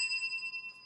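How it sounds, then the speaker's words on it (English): A small bell rings once and keeps sounding, a clear metallic tone with bright overtones that slowly fades. It is heard alone in a home kitchen during a raw vegan cooking class. "Ring that damn bell."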